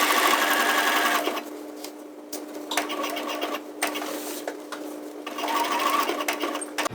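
A sewing machine back-stitches along the tape edge of an overnight travel bag, running in steady continuous bursts with a short slower stretch in the middle, close and fairly loud, with no talking.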